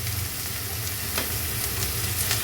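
Mint and tomato chutney being stirred in a pan, with tamarind and country sugar added, gives a steady close sizzle and soft scraping throughout, with no talking.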